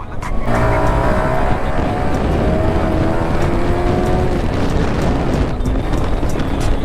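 A Yamaha R15 v4 motorcycle being ridden fast in the morning, its engine roaring loud and steady throughout with rising and falling pitch as it accelerates through gears, heavy wind rush mixed in.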